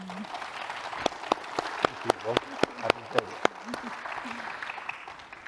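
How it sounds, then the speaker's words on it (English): Applause for the panelists at the close of a working session on resilience building for micro, small and medium enterprises: a few distinct claps ring out over a low murmur of voices and crowd noise, moderately near and fairly sparse. "I would like to suggest we give an applause to our panelists"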